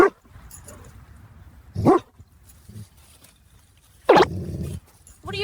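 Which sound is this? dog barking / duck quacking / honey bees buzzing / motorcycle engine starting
dog barking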